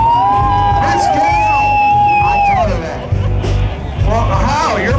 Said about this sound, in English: Round of applause for both ladies.